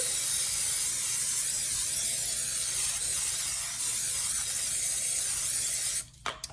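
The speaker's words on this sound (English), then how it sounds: "We are just going to spray it with Pam." A long continuous hiss of Pam cooking spray sprayed into a 9x13 baking dish goes on for about six seconds, loud and close, then cuts off, followed by a couple of small knocks.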